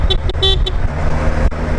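Short honks from a Kawasaki Versys 1000 SE motorcycle horn, several quick beeps in the first half over steady road and engine noise, fairly near and loud.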